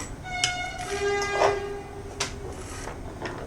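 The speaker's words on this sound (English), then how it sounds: "Excuse the train." A train passes outside during indoor work on a galvanized pipe lamp, its drawn-out horn tones and rumble steady and moderately loud for a few seconds, with no talking.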